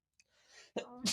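A single close sneeze bursts out in a short, loud spray of breath after a brief faint intake, with no talk over it.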